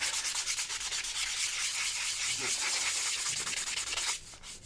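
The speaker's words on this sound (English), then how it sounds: "take a sanding block." Steady scratchy rubbing of a sanding block on a metal horseshoe fitted to a racehorse's hoof, continuous strokes close by, easing off near the end.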